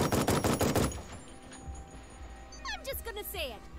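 Gunfire in the tactical game Jagged Alliance 3: a quick burst of rapid shots up front, then a quieter stretch with ringing, sweeping game effects and faint background sound.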